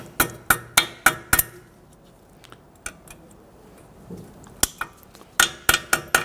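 Metal tapping on a brake dust shield on a 1992-1996 Toyota Camry, a quick run of five sharp ringing taps, a few scattered lighter knocks, then another burst of rapid hits, close and clear with no talk.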